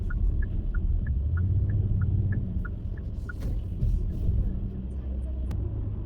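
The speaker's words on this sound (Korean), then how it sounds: "스포츠 모드에서의 이 액티브 사운드는 거의 8기통 V8의 사운드를 보여주고 있는 것 같습니다" A Hyundai Grandeur in sport mode puts out a deep, steady active engine rumble meant to sound like a V8, heard from inside the cabin along with a chime repeating regularly, and a voice speaks over it.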